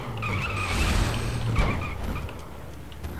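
A motorcycle skids in the video game Defiance, giving a loud tire-squeal screech layered over engine noise with a couple of surging swells.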